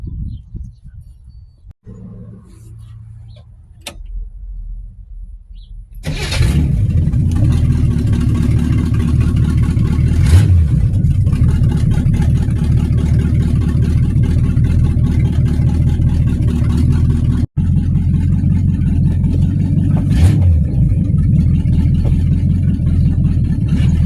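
An old car engine with a 1955–62 starter from a Bel Air or Biscayne: after a few quiet seconds it cranks and catches, then settles into a loud, rough, loping idle with a couple of revs, close by.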